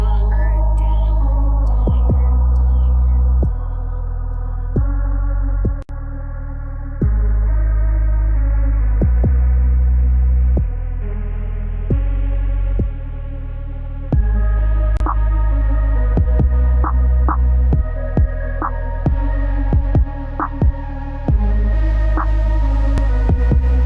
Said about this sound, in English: Now lay the grommet on the edge of the seam and stitch it up.